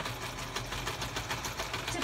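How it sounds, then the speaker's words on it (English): A sewing machine stitches an embellishment onto the corner of a junk journal page, giving a rapid, steady mechanical whirring hum for a couple of seconds. "I'm just going to go ahead and sew this onto the corner"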